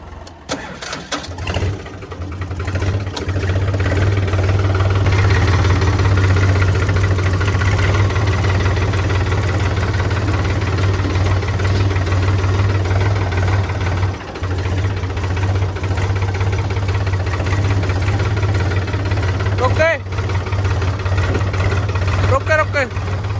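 Several tractor diesel engines idle together before heading out to a corn field at harvest, a loud, steady low rumble running throughout with a brief dip near the middle, while people talk over it.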